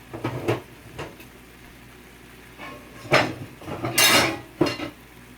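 Metal lids clatter and clank against pans in irregular bursts, some sharp and bright, with quieter gaps in between.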